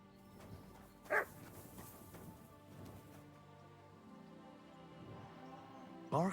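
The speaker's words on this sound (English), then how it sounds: "Barking." Mutt the dog barks twice in Kingdom Come: Deliverance II, one short bark early and another at the very end, moderately loud against a quiet, murky ambient background.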